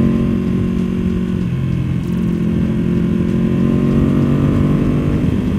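A 2024 BMW M1000R motorcycle engine runs steadily with a low, even throb and slight rises in revs, close and continuous throughout.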